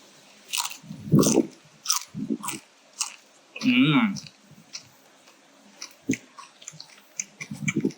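Loud, crisp crunching bites come up close, with several sharp crackles between pauses as someone chews crispy Cebu lechon roast pork skin, and brief voices mixed in.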